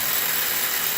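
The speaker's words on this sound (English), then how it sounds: "You can hear him with that drill trying to punch through that shale there." A loud, continuous drill roar, steady and close, grinding through shale while digging a sewer line.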